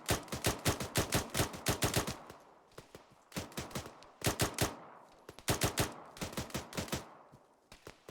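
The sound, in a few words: gunfire in Arma 3 video game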